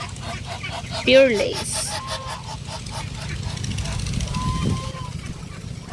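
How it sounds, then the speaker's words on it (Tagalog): A pure Indo drake duck gives a short, raspy honk in a backyard with other fowl, while a person talks quietly through most of the moment. "yung bago nating Drake na Pure Indo"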